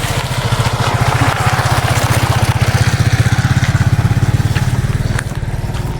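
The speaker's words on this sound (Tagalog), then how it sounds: "May dumaan na motor." A motorcycle engine putters loud and close with a steady rapid thumping rhythm, holding even before easing slightly near the end, with no talking.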